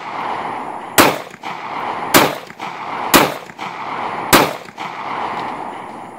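Four sharp, loud pistol shots from a Taurus PT709 Slim at a shooting range, spaced about a second apart with short echoing tails between them and no voices.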